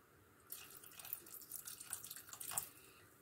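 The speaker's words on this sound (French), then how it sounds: "on va le diluer avec un peu d'eau de fleur d'oranger" Orange blossom water is poured in to dilute a mixture for makroute, a soft, faint trickle and splash that starts after a quiet moment and runs on steadily to the end.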